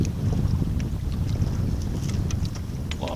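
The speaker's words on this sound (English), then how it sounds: "A lot of wind today." Strong outdoor wind buffeting the microphone, a continuous loud low rumble with gusty fluctuations throughout.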